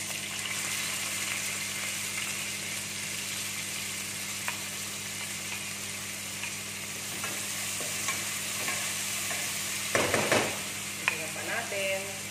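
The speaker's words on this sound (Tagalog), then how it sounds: "Mag-add tayo ng onion." Onion fries in a pan with a steady, even sizzle throughout, and a few stirring clinks and scrapes come in near the end.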